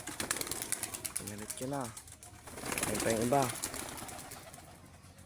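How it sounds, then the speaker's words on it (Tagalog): Domestic pigeons at an opened coop door give low, soft coos in short bursts with faint wing movement, close by and mixed with someone talking over them. "Yan yung mga kalapati ko."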